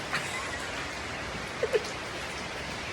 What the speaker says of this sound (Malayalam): നല്ല മഴയാണ് ഇന്ന് ഇപ്പോൾ രണ്ട് മൂന്ന് ദിവസമായിട്ട് നല്ല മഴയാണ്